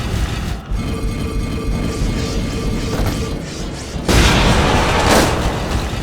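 A bomb blows up in the video game Lara Croft and the Temple of Osiris, arriving as a sudden loud, broad burst after steady game noise and rumbling on for a couple of seconds.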